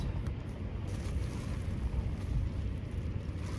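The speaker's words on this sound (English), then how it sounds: "because it's pretty windy out today" Steady outdoor wind rumble buffeting the microphone beside a pitched tent, a continuous low roar with gusty swells and no voices.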